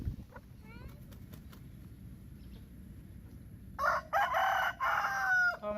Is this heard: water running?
no